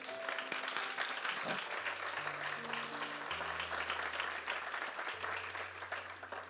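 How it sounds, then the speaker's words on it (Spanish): Church congregation applauding, a steady wash of clapping at moderate distance throughout, with sustained low organ or keyboard tones entering partway through. "Denle un aplauso al Señor por eso."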